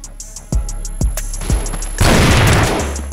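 Gunfire from the CrossFire video game: loud single shots crack about every half second, then break into a dense, sustained burst of rapid fire.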